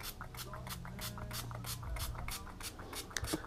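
Quick pump-spray bursts of water misted across a kneeboard deck before grip installation, a steady run of short hissing puffs repeating close by at a brisk rhythm.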